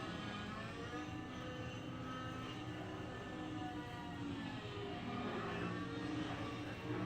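An autonomous model helicopter flies in a played-back recording, a steady whining engine and rotor drone holding at even loudness throughout with a layered tonal hum and no talk.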